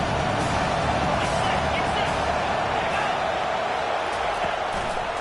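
Football stadium crowd at a Tigers game roaring in a steady, loud wall of cheering and noise that holds throughout, with no distinct pauses.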